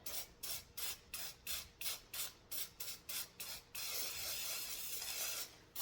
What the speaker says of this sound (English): I'm going to spray them in the white.